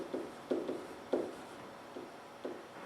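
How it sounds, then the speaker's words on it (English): Someone writing down an equation by hand, soft scratchy strokes in short irregular bursts, close and faint, with no talking. "I'm going to write this down."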